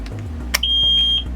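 Warning beep from the dash of a small boat with a MerCruiser engine, sounding as the key turns: a click, then a loud steady high tone held for about half a second over a low idle hum.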